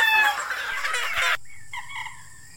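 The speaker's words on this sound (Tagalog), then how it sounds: "tapos na tayo mag-asikaso ng ating mga alagang manok" Pet chickens on a backyard farm: loud, close clucking and squawking at first, then a sudden cut to a fainter rooster crow with drawn-out, wavering calls.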